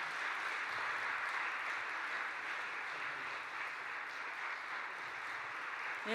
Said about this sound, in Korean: 큰 박수로 축하해 주시기 바랍니다